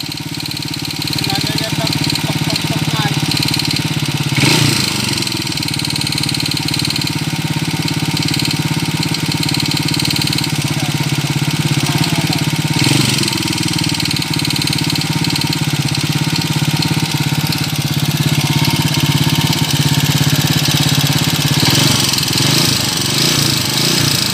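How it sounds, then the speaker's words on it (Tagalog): A TMX125 motorcycle converted to a 200cc engine idles steadily and loudly up close, its valve train ticking rhythmically under the running motor, with people talking over it. "pakinggan natin mga kabro yung tunog ng andar ng kanyang makina"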